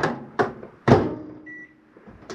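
An RV microwave oven clicks and thumps through three sharp door or button knocks, a short tonal beep partway through, then quiet cabin hum.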